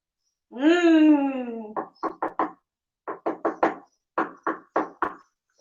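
Someone knocks on a door, rapping in quick groups of three or four with short pauses between. A long wailing voice comes just before the knocks.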